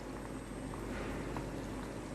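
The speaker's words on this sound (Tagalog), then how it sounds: "Oh, kulong-kulo yan." Creamy chicken sopas soup boiling in a pot, a steady close bubbling and simmering hiss that runs continuously and evenly without any talk.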